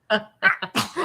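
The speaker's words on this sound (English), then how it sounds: "A wet sneeze. We love a wet sneeze." A close, wet-sounding sneeze comes in several quick bursts, with short breathy gaps between them.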